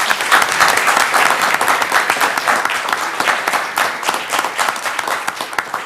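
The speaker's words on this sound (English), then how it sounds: "Let's give a round of applause to all of our elementary school presentations." A school board meeting audience bursts into loud, dense applause for elementary school presentations, a sustained roar of many hands clapping close and continuous for nearly six seconds.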